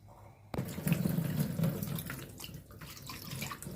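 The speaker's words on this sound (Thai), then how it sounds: "ล้างปลาให้สะอาดค่ะ" Tilapia being washed under a running kitchen tap, a steady gush of water hitting the sink and fish that starts abruptly after a brief quiet moment and continues close and even.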